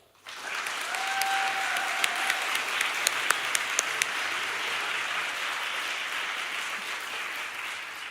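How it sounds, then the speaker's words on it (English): Sustained audience applause for award nominees at a sustainability awards celebration, a steady dense clapping wash that swells in quickly and holds for several seconds, with a brief faint whistle or voice near the start. "a round of applause for all of our incredible nominees"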